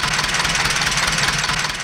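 Close, loud, steady idle of a Honda Gold Wing SC79 motorcycle engine, an even low rumble with rapid regular pulsing and no speech over it.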